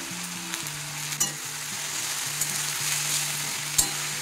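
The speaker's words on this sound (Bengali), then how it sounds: "আর এটা হাই ফ্লেমে ভেজে নিতে হবে, মিডিয়াম টু হাই ফ্লেমে এটা ভাজতে হবে।" Agastya flowers frying in a pan over medium-high flame, a steady close sizzle with faint stirring scrapes and a few soft clicks, no voices.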